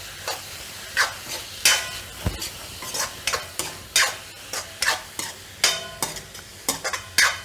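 Red chili sauce and vinegar get stirred into Manchurian in a hot pan, a spoon scraping in regular strokes about once a second over a soft sizzle, close and clear.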